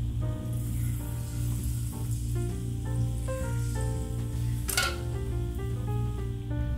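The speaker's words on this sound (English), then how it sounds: "At this temperature range, tempura batter barely touches the bottom and comes back up." Tempura batter sizzles in hot frying oil at about 170 to 180 degrees Celsius, a soft, continuous crackle with faint steady tones running beneath it.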